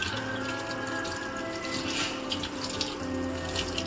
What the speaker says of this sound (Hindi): इसको ठंडे पानी से वॉश करना होता है